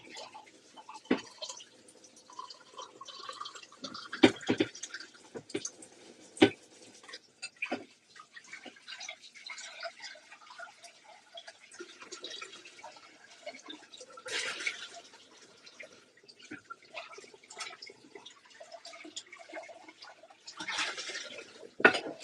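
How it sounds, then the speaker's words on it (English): A pan being washed under running water at a kitchen sink: intermittent splashing, dripping and clanks of metal, with bursts of water flow, close by and uneven. "I need to wash that pan."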